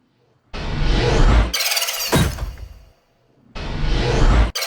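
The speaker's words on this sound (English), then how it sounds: "the reverse is just a fantasy magic spell sound" A reversed fantasy magic spell effect, swelling whooshes that build and cut off abruptly, with a bright shimmering burst between them, loud and close, no talking.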